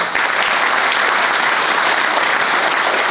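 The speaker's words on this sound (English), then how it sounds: "a big round of applause for all of those founders" Audience at a startup pitch competition applauding the founders, a dense, continuous roar of many clapping hands, loud and sustained with no speech.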